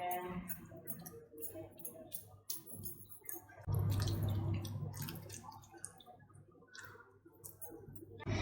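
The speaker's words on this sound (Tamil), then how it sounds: "நாங்கள் இப்போ இதை மீனில் நல்லா தடவி விடுவோம்" Wet squishing and dripping as masala paste with oil is rubbed by hand onto raw fish for frying, soft close-up smears and squelches with a few clicks, no talking.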